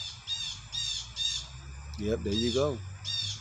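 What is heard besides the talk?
crows cawing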